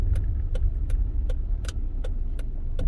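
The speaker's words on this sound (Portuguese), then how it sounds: "Vou parar o carro mais embaixo porque aqui tá muito apertado aqui" A car engine rumbles steadily at close range while the vehicle moves slowly along a narrow, tight street in São João da Ponte, Minas Gerais, with light clicks and rattles recurring over the low drone and no talk.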